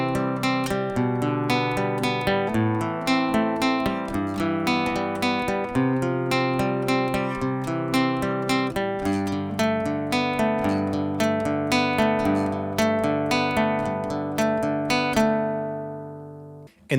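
A guitar plays a chord progression from a song, moving straight from one shape to the G shape, with ringing strummed and picked chords throughout, no voices.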